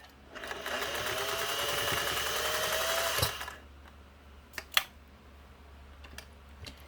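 A Singer 401a sewing machine runs a steady, fast stitching whir for about three seconds, then stops abruptly, followed by a few faint clicks and handling taps in a quiet room.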